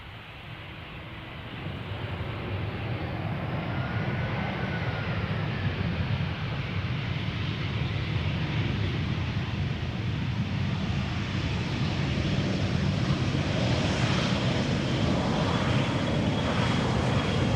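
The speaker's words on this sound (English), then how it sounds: "EasyJet A319 arriving from London Gatwick." An easyJet Airbus A319 from London Gatwick arrives at Amsterdam Schiphol, its engines a continuous broad roar that builds in the first seconds and then holds steady, faintly rising, with no voices.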